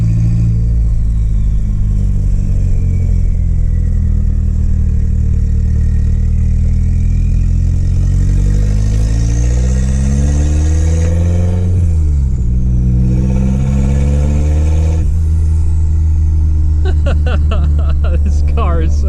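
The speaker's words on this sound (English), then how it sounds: "Going on our first little test spin," A car fitted with a Nissan SR20DET engine on its first test drive revs up and shifts through gears repeatedly, a loud close engine note rising and falling, while people talk over it.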